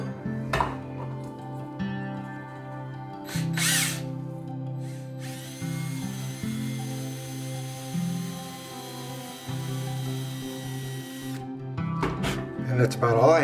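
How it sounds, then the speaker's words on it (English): A power drill bores a 7/16 hole into wood, its motor whirring in several bursts, with one long steady run in the middle and a few short pulses near the start and end. "So now I'm going to drill myself a 7/16 hole right here."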